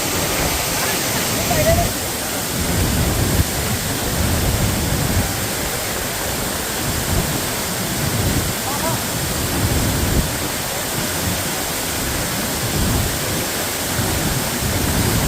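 Deojhar waterfall near Cuttack roars with a dense, unbroken wash of rushing water, loud and close, holding steady for the whole stretch.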